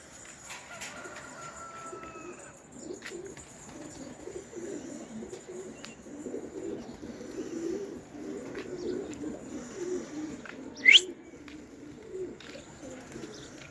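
Young pigeons coo softly and continuously in a loft, with faint chirps and one sharp brief call near the end.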